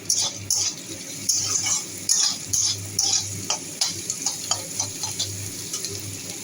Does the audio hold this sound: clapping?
no